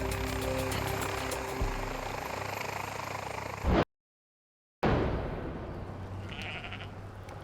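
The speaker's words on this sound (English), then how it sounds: "There's no such thing as a routine takeoff at night." An air ambulance helicopter reverses out of a field at night in the remote Yorkshire dales, its loud rotor and turbine roar steady and close. The roar cuts out briefly, then returns.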